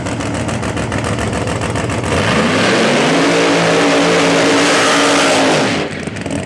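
An IHRA ProMod drag race car makes a solo bye run, its engine roaring loud and close as it launches and climbs steadily in pitch, holding a sustained scream for several seconds before cutting off abruptly.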